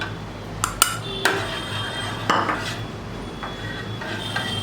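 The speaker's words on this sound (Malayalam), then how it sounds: "ആദ്യം മോരിലൂടെ നമുക്ക് പെപ്പർ പൗഡർ ഇട്ട് ഇളക്കാം" A spoon stirs pepper powder into buttermilk for a chicken marinade, clinking sharply against the bowl a few times over a soft rubbing swirl, close and with no talk.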